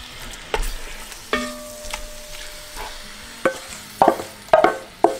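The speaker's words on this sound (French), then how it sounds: "Alors là j'ai mis de l'huile d'olive, je vais mettre ma viande." Meat laid into hot olive oil in a pan for a Moroccan family dinner, a steady soft sizzle under sharp knocks and clinks of a utensil stirring against the pan.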